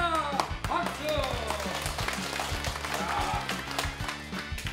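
An audience claps at the start of an event at a village sports ground, with clapping and tapping mixed under lively talk and background music.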